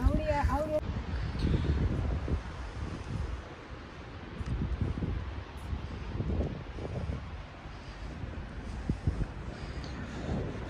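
Wind gusts on the German seaside during heavy rain buffet the microphone, giving a steady roaring rush with low rumbling surges throughout and faint voices beneath.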